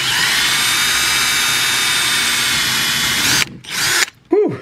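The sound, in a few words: power drill drilling pilot hole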